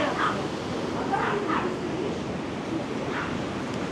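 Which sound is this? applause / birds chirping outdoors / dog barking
dog barking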